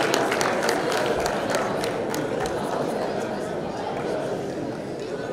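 An audience claps for schoolchildren at a French-language school prize ceremony, a dense patter of many hands applauding steadily alongside crowd chatter and a voice talking over it.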